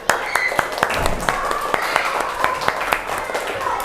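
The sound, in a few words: children clapping hands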